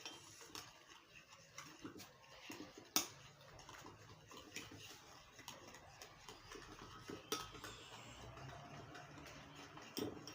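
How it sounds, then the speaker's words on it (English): Burger sauce of mayo, mustard and salt being stirred in a bowl, a spoon ticking and clinking against the sides in a steady, quiet rhythm with a few sharper knocks, close and faint. "And then I mix. Mix very well."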